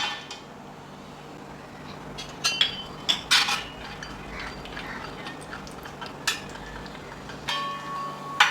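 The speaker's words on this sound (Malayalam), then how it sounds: "ഇതിലേക്ക് നമുക്ക് കാഷ്യൂ ഇട്ട് കൊടുക്കാം" Cashews go into a pan of ghee for Onam coconut-arrowroot payasam, with scattered sharp metallic clinks and utensil knocks over a quiet, steady background hiss.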